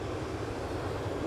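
Boeing 787-9 Dreamliner from Frankfurt passing overhead near Toronto Pearson Airport, a loud, steady broadband jet roar without talk.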